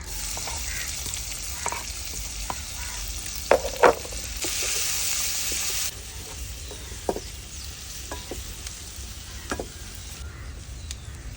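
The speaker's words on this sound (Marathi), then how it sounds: "आता आपण यामध्ये चिरलेला कांदा घालूया" Chopped onion frying in a pan of oil with bay leaves, black pepper, cardamom and a cinnamon stick: a steady loud sizzle throughout, broken by occasional stirring scrapes and small pops, with no talking.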